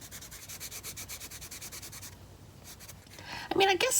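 Colored pencil shades over marker on paper in quick, rhythmic back-and-forth scratchy strokes, close and soft, with a brief louder rustle at the end.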